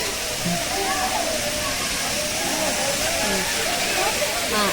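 The Thiruparappu waterfall in Kanyakumari pours in a continuous broad rushing hiss, steady and fairly close, with faint voices murmuring underneath.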